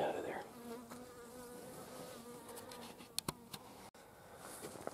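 A honeybee buzzes near a fence being painted: a close, steady droning hum that wavers in pitch, with a few faint clicks and knocks in the background.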